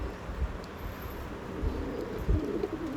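Andhra pigeons coo in a loft, low soft throaty murmurs rising a few times over a breezy background hiss, fairly close and unhurried, with no voices.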